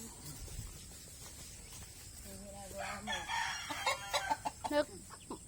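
Hens and newly hatched chicks in a backyard coop, with a rooster crowing partway through and a run of short clucks near the end, all fairly faint and slightly distant with no talking.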